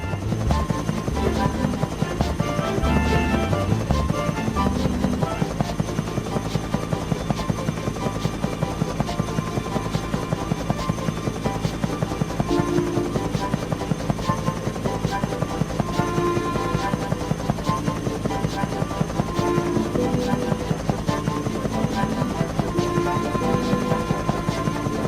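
A biplane in the Thomas and Friends video game Trouble on the Tracks flies close by, its steady droning engine hum running continuously and fairly loud throughout, layered with game music and no speech.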